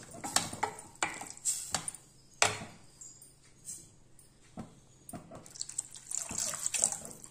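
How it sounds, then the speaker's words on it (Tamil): Water splashes and pours into a pot of simmering tamarind curry in short, uneven bursts, quiet and close, with brief pauses between pours. "நான் இன்னும் கொஞ்சம் தண்ணி சேர்த்துக்கிறேன்."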